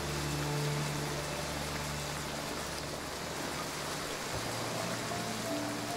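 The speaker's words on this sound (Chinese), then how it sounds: "下雨了。" Rain falling steadily, a constant broad wash of patter with a faint low drone beneath it and no voices.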